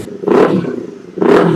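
Kawasaki 500cc motorcycle fitted with a V-Lane Alpha Carbon exhaust, revving in two sharp, loud blips separated by a rumbling idle, close by with no talking.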